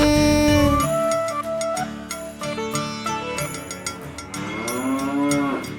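A cow mooing in a children's rhyme: long, loud, tonal moos, one at the start and another swooping near the end, with music and a cowbell-like jingle underneath.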